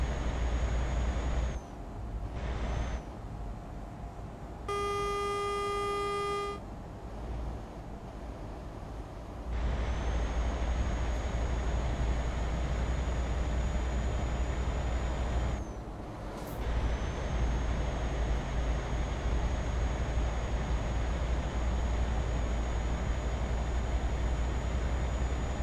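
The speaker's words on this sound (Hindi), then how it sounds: "द बेस्ट थिंग इज़ कि हमें इंजन का आवाज़ आ रही है।" A BMC Tugra truck in Euro Truck Simulator 2, a 500-horsepower rig, with a steady low engine drone running throughout, broken by a couple of short dropouts and a brief tonal chime partway through.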